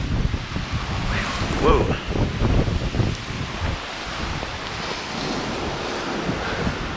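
Strong Hurricane Ian winds roar and buffet the microphone in North Port, Florida, a constant heavy rush with gusting surges; a man briefly exclaims over it.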